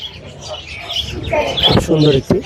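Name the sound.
Japanese budgerigars chirping at bird market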